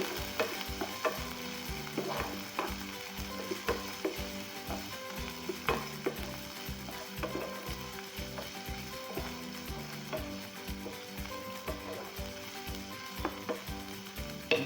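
Broccoli goes into a hot frying pan for a ham and egg burrito filling, sizzling and frying steadily with repeated stirring and scraping clicks throughout, loud and close with no talking.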